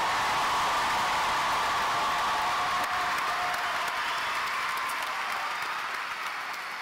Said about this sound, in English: Let's give a big round of applause for our graduates.